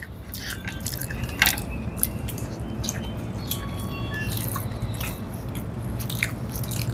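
Close, crisp bites and wet chewing on fried fish during a Bengali home mukbang, a steady run of small crunches and squishy mouth sounds with no talking.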